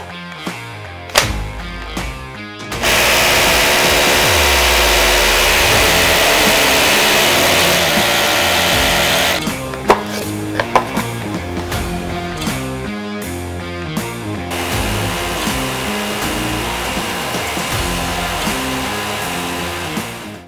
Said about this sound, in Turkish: Bu işlemimizde GDE18V-16 toz emme sistemimizi kullanarak yeni bir delik deleceğiz.